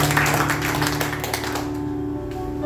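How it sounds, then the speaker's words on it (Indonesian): A church congregation at a Sunday service applauds, a dense, steady patter of many hands that trails off toward the end over a sustained musical hum. "Kasih tepuk tangan buat Tuhan."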